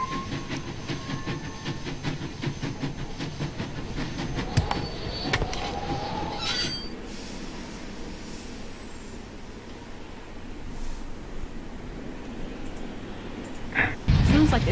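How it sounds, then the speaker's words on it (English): In the Nancy Drew video game Last Train to Blue Moon Canyon, a train pulls out of the station with a steady mechanical rumble, hissing steam and a rising high whistle-like tone partway through, loud and continuous. "Sounds like the train's leaving."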